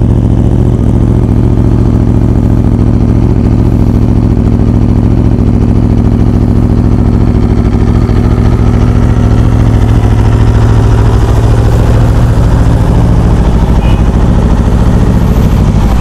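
An Aprilia RSV4 1100 Factory superbike idles while warming up, a loud, close, steady engine drone with a constant low rumble and no talk over it.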